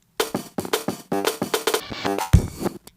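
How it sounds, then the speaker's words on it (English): A glitched electronic music intro built in Ableton without plug-ins: choppy stuttering bursts of tonal synth and drum hits, cut off abruptly in rapid irregular rhythm, ending with a low thump and brief silence. "And then for the intro part, I did even more glitching up."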